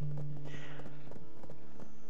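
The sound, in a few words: horse hooves clip-clop in video game Black Desert Online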